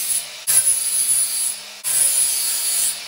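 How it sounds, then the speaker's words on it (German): Lawnmower blade edges being polished with a tool, two sustained abrasive rubbing strokes with a high grinding whine, close up and loud, separated by a short break. "Und zwar müssen wir jetzt erstmal die Kanten hier oben polieren."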